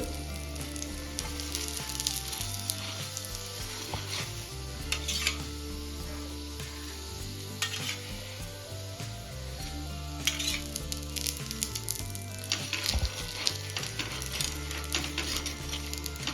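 Mango puran poli frying on a pan after being flipped and brushed with oil, a continuous gentle sizzle with occasional light scrapes, steady throughout.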